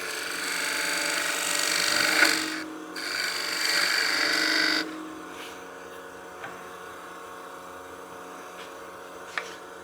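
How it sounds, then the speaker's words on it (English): A spindle gouge cuts a bead curve into spinning wood on a lathe, a close, sustained scraping hiss in two strong bursts, then fading to a low motor drone with a few small taps. "Now I'll get my spindle gouge, and then I'm going to cut my curvature down to the bottom of the bead."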